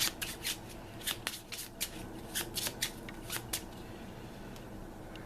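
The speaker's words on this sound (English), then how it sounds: "I will shuffle it first because I haven't." A deck of cards for the board game Maximum Apocalypse is shuffled by hand up close, giving a run of quick, crisp riffling bursts in an irregular rhythm.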